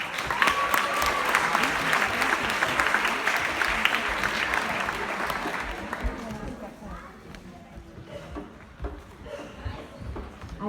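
Audience applause for an award winner in a reading contest at a school ceremony, steady clapping from a room full of people that holds strong for several seconds, then gradually thins out and fades.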